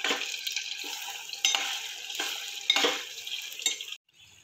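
Red chutney frying in a generous amount of extra oil, a steady close sizzle broken by several scraping stirs of a spoon against the pan, ending abruptly.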